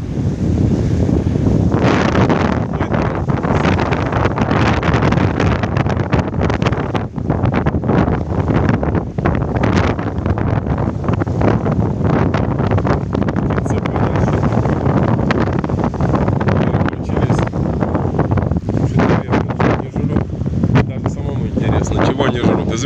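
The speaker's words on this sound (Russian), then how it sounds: "Наверное, из-за ветра меня мало слышно." Strong storm wind roaring into the microphone on the Amur river, a constant heavy buffeting rumble with gusty surges that persists throughout, someone speaking faintly underneath.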